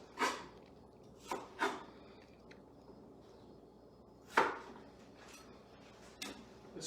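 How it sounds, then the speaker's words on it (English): A knife slices through apple halves onto a cutting board, giving a few sharp, separate close taps spaced unevenly over a quiet background. "I'm going to come back in and do the same thing again and slice it down."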